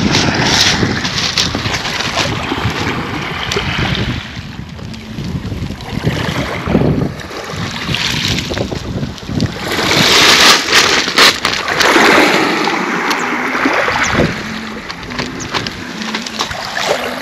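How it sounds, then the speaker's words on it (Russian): Sea waves break and wash along the shore at Lazarevskoye on the Black Sea near Sochi in the early morning. Strong gusts of wind buffet the microphone throughout, with surging rushes of surf and no voices. "дал вам возможность послушать море"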